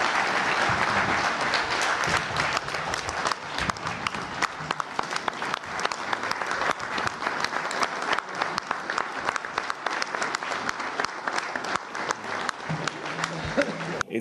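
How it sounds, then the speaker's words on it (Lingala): Sustained applause and cheering fills a large assembly hall as delegates acclaim the election of the new CAF president, dense clapping continuing steadily for the whole stretch at a loud, even level. "voudrez-vous exprimer à travers vos acclamations l'élection du nouveau président"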